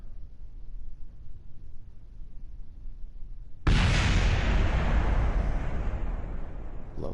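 An explosion in Kerbal Space Program as a spacecraft's heat shield is jettisoned, a sudden loud blast that cuts in over a quiet low rumble and then rolls on as a sustained roaring, crackling wash, with no talk.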